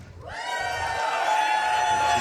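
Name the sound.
crowd cheering at a speedrun event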